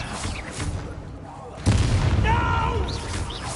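A Bombarda blasting spell explodes in the video game Hogwarts Legacy: a sudden booming burst partway through, then a sustained rumbling aftermath under other game effects and a voice.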